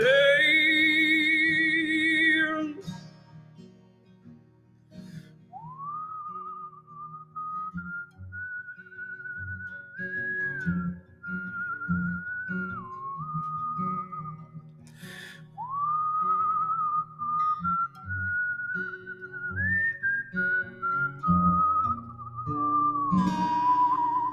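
A person whistles a long, wavering melody alone, clear and close, with a few short pauses between phrases.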